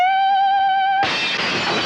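A sustained high sung note holds for about a second, then a glass breaks with a sudden bright shatter, and the tinkling debris rings out loudly to the end.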